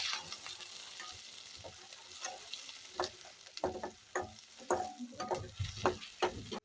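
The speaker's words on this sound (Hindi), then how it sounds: "अब इसमें हम डालेंगे कटी हुई प्याज और इसको हम सुनहरा होने तक भून लेंगे।" Chopped onion frying in a pan until golden for a UP-style matar nimona, with a steady sizzle and repeated stirring scrapes and clatters that grow louder toward the end, and no talking.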